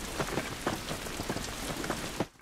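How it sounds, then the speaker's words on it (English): Steady rain pours in The Last of Us, a dense hiss of drops hitting surfaces with scattered heavier splats, close and continuous with no voices, briefly dropping away at the very end. "This rain ain't gonna do us any good."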